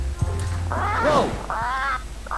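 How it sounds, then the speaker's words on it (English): Attack-trained guard parrot in the Return to Monkey Island video game, squawking in a few harsh, warbling bursts over a steady low game background, close and loud. "Guard parrots are attack trained."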